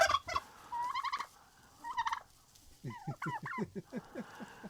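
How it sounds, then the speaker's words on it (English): A blue slate turkey tom on an off-grid high desert Arizona homestead gobbles in repeated rattling bursts, with several loud, close calls separated by short pauses. "He's a very friendly turkey, and he's a little mad because he doesn't have any girlfriends right now."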